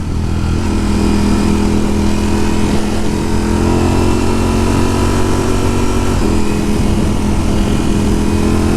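A 2020 Ducati Streetfighter V4 S motorcycle engine drones steadily and loudly under way, with a constant low-pitched rumble that holds at an even pitch and level the whole time.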